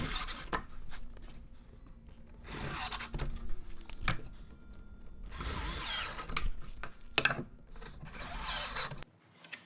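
A power drill drives screws into a homemade downdraft sanding table, with several close, loud whirring bursts and short pauses between them.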